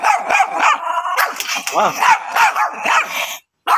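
Two poodles bark and yip in sharp, rapid bursts at close range during home-service grooming, with excited voices talking over them before the barking stops abruptly.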